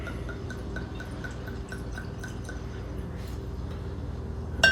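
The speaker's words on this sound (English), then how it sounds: "let's get this poured up" Loco Tequila Blanco poured from a bottle into a glass, heard as a steady run of small liquid drips and trickles close by, with a faint sound at the very end.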